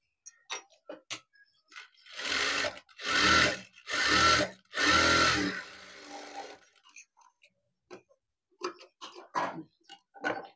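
A sewing machine stitches a blouse in several loud, steady whirring runs of about a second each, separated by pauses, with handling clicks and taps before and after.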